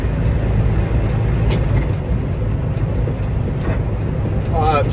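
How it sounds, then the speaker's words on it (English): A truck passes on the road in a steady, loud, broadband traffic rumble that lasts throughout, with a voice faintly present underneath. "this fucking dumbass truck"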